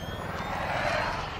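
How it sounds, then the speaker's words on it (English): Helicopter in the Batman Arkham VR game: a steady broadband rotor-and-engine rumble holds at an even level throughout, with no voices over it. "So let's go with the helicopter."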